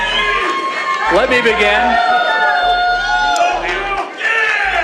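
A crowd at a forum cheers and whoops continuously, with the noise rising and falling under someone speaking loudly into a microphone.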